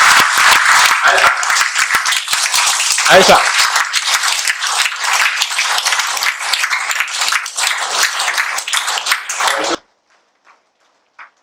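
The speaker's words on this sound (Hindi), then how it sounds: "जोरदार से तालियां बजाएंगे" Audience at a meditation center gives loud, dense, continuous applause for about ten seconds before it stops abruptly, leaving near silence with a single faint word spoken afterward.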